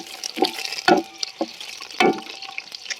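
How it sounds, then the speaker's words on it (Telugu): Curry leaves and green chillies dropped into hot oil in a pot for a large country chicken curry, crackling in bursts of spluttering sizzle with a few sharper pops over a quieter frying hiss. "కరివేపాకు కూడా వేసేసాము పచ్చిమిర్చి కూడా వేసేద్దాము ఆయిల్లోనే"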